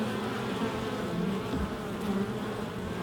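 Bees buzz steadily and densely at the small entrance of a UK beehive, a continuous close-up hum of many insects with no talking.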